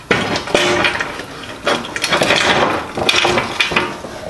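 An aluminum sidecar plate slides onto a metal pipe with several close scraping and clinking bursts in a short, uneven sequence.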